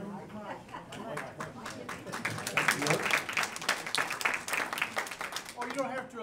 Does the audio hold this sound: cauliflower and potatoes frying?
no